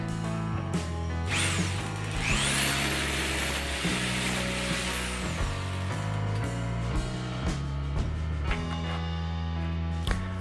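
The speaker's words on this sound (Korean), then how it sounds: "무사히 구멍을 다 뚫었습니다." Steady mechanical drilling through a wall in a semi-basement bathroom, a continuous loud grinding whir with ratcheting, gear-like chatter and a rising high whine, running without pause and without talk.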